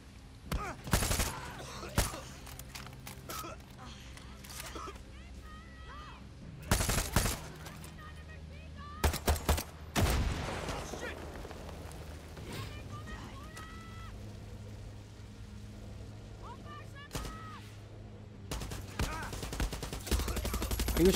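Bursts of heavy automatic machine gun cannon fire in rapid volleys in the video game Far Cry 6, separated by stretches of quieter game ambience, with a voice talking over parts of it.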